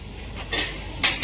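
Peanuts being dry-roasted in a pan in a home kitchen, with a few brief scraping, clinking stirs of metal against the pan over a soft, steady background.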